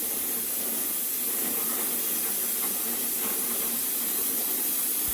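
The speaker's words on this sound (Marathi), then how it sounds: "आता हे तुरीचे दाणे आहेत ते आपण याच्यामध्ये टाकून घेऊया" Pigeon pea grains dropped into a hot pan give a steady, close hiss of steam and sizzle that runs the whole time, with no one speaking.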